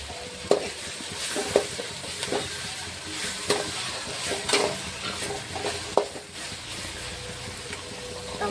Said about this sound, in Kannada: ಈರುಳ್ಳಿ ಕೂಡ ಚೆನ್ನಾಗಿ ಫ್ರೈ ಆಗೈತಿ ಇವಾಗ ಟಮಾಟೊ ಸೇರಿಸಿ